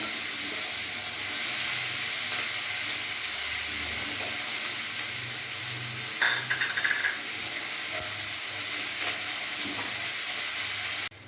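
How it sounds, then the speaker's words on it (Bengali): Chopped onions fry in a pan until browned and reddish, giving a steady, close sizzle that runs the whole time, with a short burst of scraping or stirring partway through. "পেঁয়াজটা আমার ভালোভাবে ভাজা হয়ে গেছে লাল লাল হয়ে গেছে"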